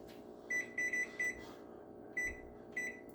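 A kitchen oven timer being set for five minutes while a pie crust is par-cooked: a series of short electronic beeps, three close together, then two more after a pause, clear and near over a low room hum.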